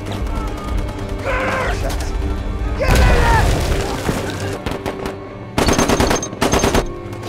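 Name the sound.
German machine gun fire, war documentary sound effect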